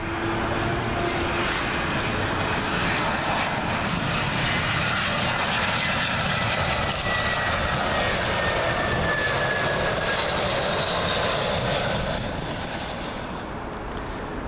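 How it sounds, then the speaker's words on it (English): A British Airways Airbus A319 jet arriving at Heathrow runway 27L, a loud, steady broadband roar that holds close for most of the stretch, then eases slightly near the end. "British Airways A319 arriving in from Amsterdam Schiphol."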